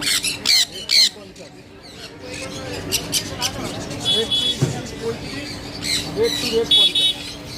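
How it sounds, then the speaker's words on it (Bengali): Red Sun conure parrots squawk at a rainy-day bird market in Serampore, giving sharp, loud, repeated harsh calls in bursts, with people's voices chattering around them. "এইগুলো রেড সান"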